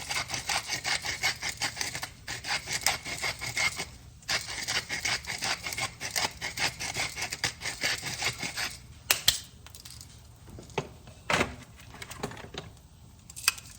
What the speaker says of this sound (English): I'm gonna go ahead and put a little bit of salt and pepper on here